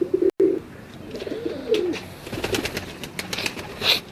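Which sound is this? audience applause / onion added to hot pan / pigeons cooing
pigeons cooing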